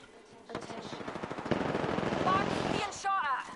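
Rapid automatic gunfire in the shooter game Apex Legends, heard as a dense, continuous burst of shots under excited voice chat.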